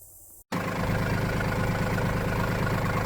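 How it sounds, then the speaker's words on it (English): A tractor engine runs while pulling a cultipacker across a food plot, a loud, steady low drone with a rhythmic throb that kicks in abruptly after a brief quieter moment and then holds at the same level. "Hope you can hear me over the tractor."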